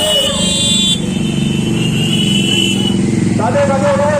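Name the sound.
motorcycle rally passing by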